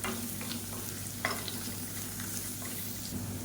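Onions sauteed with rasam powder in a pan for raw mango rasam, a steady close sizzle with light stirring scrapes throughout.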